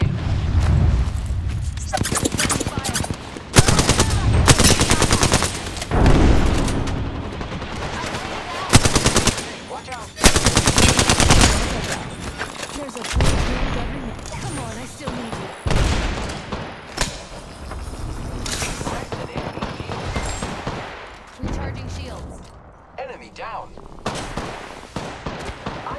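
Gunfire in Apex Legends Season 14: loud, sustained bursts of automatic fire and heavy booms that repeat and overlap, with brief pauses, then sparser shots and explosions toward the end.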